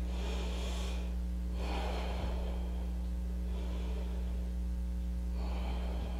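Slow, deep breathing in a yoga flow: several long inhales and exhales, close and airy, repeating at an even pace over a constant low electrical hum.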